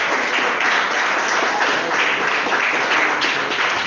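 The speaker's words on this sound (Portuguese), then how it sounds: "louva o Senhor com palmas bem forte para Jesus" A church congregation claps hands together in praise, a dense, steady patter of many hands at moderate level with faint pulsing, continuous throughout with no voices standing out.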